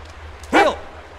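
A single sharp dog bark from the Blair Witch video game, loud and close, standing out once over a low steady background hum.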